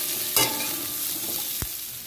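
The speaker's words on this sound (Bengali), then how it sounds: "দেখুন, পেঁয়াজটা এইভাবে আমার ভাজা হয়ে গেল।" Onion, potato and papaya frying and being stirred in a pan, a steady close sizzle broken by a couple of sharp utensil scrapes and a clack.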